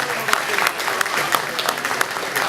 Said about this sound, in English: How about a nice round of applause for all